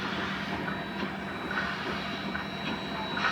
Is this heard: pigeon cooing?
no